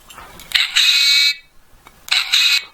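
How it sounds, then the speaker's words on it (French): A Darth Vader figurine keychain plays a lightsaber-clash effect, two bursts of bright, harsh buzzing tone from a tiny speaker, the first long and the second shorter after a brief gap, close and alone. "on pourrait dire que c'est le bruit de 2 sabres laser entre eux"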